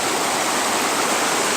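Water rushes steadily over gravel at a gold mining dig, a loud, continuous close hiss with no pauses and no voices.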